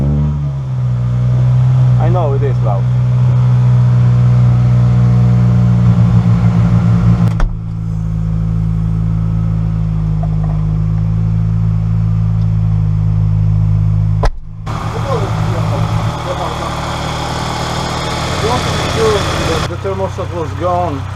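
A Toyota Celica VVTL-i engine runs steadily nearby with a loud low hum, cut by a few abrupt breaks and shifts in tone, and a voice briefly talking over it.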